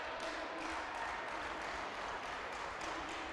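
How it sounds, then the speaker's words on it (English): Crowd noise fills the Rack Gym at a men's college volleyball match between George Mason and UCLA, a steady, dense roar of cheering and scattered clapping that holds loud and unbroken throughout. "The Rack Gym crowd really loving it now."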